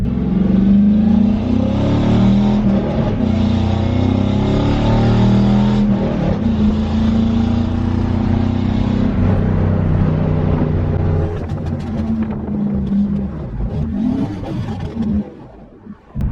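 Car with an LS V8 engine on a test drive after a crank sensor replacement, a steady loud engine drone with rising and falling revs throughout, easing off near the end.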